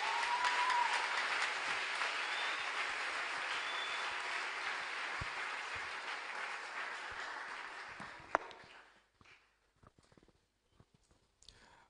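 Audience at a convention in Pointe-Noire applauding steadily and loudly for several seconds, the clapping then thinning out into a few scattered claps and quiet.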